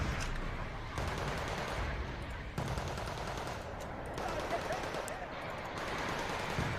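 Dense, continuous automatic gunfire from units in the wartime strategy game Wargame Red Dragon, steady bursts filling the whole stretch at constant loudness, with faint talk mixed in.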